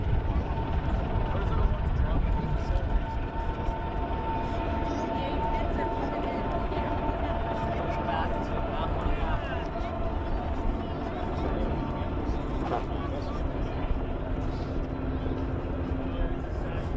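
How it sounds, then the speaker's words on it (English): AH-64 Apache helicopter arriving at an air show combined arms demonstration, a distant steady rotor and engine drone under a loud announcer's voice and a faint background crowd. "AH-64 inbound with the ground assault force"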